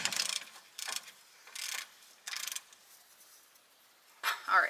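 Ratchet snugging a bolt on an aftermarket Synergy sway bar link on a 2005 Cummins truck, giving several short bursts of quick clicking spaced by pauses, close and fairly quiet.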